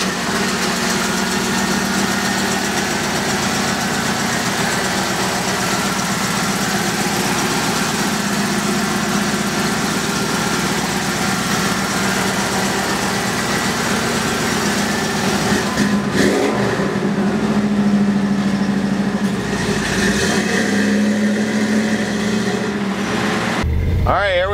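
A 1956 Ford F-100 pickup truck engine idles steadily and close by with a low, even rumble, then revs briefly toward the end while someone talks over it.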